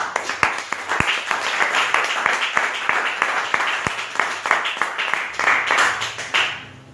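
A church congregation bursts into sustained, loud applause, a dense stream of clapping that carries on for several seconds before tapering off near the end.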